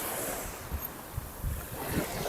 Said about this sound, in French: Il y a un petit peu plus de vagues.